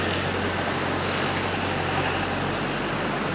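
Steady outdoor wind blowing in cool weather, a continuous broadband rush with a low rumble, constant and fairly loud with no talk.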